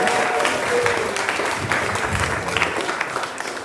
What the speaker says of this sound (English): Give a big round of applause for Andrew from Sunset Glow.